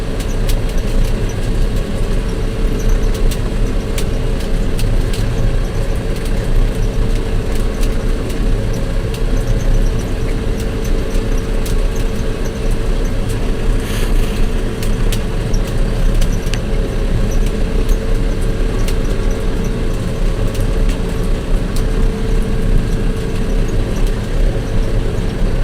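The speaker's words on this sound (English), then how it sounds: "Truckers out there, the nice looking Pete they're hauling with." A Peterbilt semi truck with dual stacks drives past on a farm road, a steady, fairly loud diesel engine rumble that holds throughout with no clear approach or fade and no speech.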